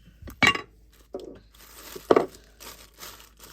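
A few sharp crinkles of plastic being handled, short bursts separated by brief quiet moments, close up.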